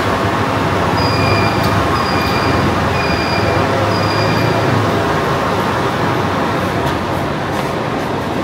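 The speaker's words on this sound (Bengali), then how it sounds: "আপনারা হয়তো দেখতে পাচ্ছেন সেই ট্রেনটা আসতেছে।" Kuala Lumpur monorail train arriving at a station, a loud continuous rumble and hiss of the approaching train with a few high squeals repeating, no talk.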